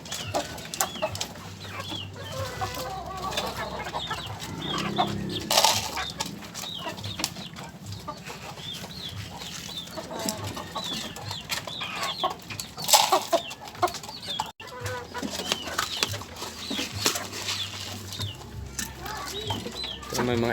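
Hens cluck and murmur steadily on a small chicken farm, several birds close and overlapping in a continuous busy chatter, with occasional louder squawks and a faint coo-like undertone.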